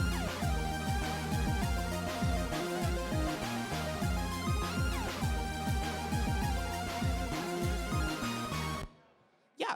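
Famitracker chiptune lead synth with staircase pulse widths, bright buzzy square-wave melody over busy pulsing bass and percussion, loud and continuous before cutting off abruptly near the end.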